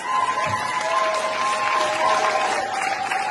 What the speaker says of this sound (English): Let's give His Royal Highness a big round of applause